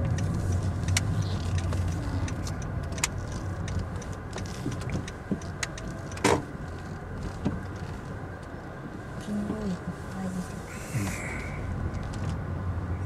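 Honda Fit car rolling along a narrow road in Japan, heard from inside as a low steady engine and road hum with occasional small clicks and knocks, no talk.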